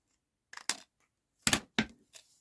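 Scissors snip through sturdy 250 GSM card, a few short crisp cuts spaced apart with quiet gaps between, close and fairly faint.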